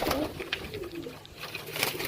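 Soft pigeon coos and bird calls, close by, over a steady low background hum with faint rustling.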